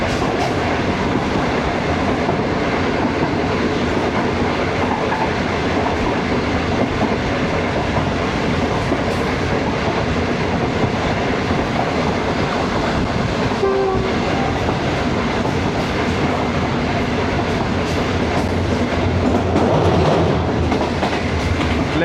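Shalimar Express passenger train from Lahore running on rails in summer heat, a continuous loud rumble and rattle of wheels with steady clickety-clack, heard from on board with no talk.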